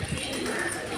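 Pigeons kept in large numbers at Gurudwara Nanak Jhira in Bidar, Karnataka, give a short, low coo against a steady outdoor background, heard nearby with no talk over it.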